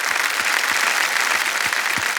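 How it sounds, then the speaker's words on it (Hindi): Steady applause from a studio audience on a televised quiz show, a dense wash of many hands clapping at an even level throughout. "एक बार फिर तालियां बज जाए इनके लिए।"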